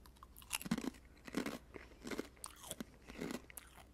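Onion and cheddar crisps being eaten, four crunchy bites with chewing spaced roughly evenly, close and quiet with no speech.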